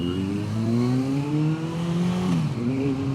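Motorbike riding and lane filtering through city traffic in an iconic harbour city, the engine droning steadily with rising and falling pitch as it accelerates, plus a brief dip and recovery near the end, loud and close throughout.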